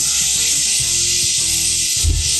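Water poured into a pan of sautéed spices and fish sauce for beef curry, giving a loud, steady hiss and sizzle with a brief bubbling burst near the end.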